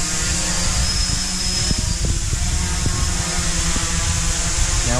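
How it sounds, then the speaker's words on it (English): A VOXL m500 development drone hovers and flies a figure-eight path in offboard mode, its propellers producing a loud, steady, close whine and buzz that continues alone without a break. "if you look at the drone, it will move to a position right above where you powered it on."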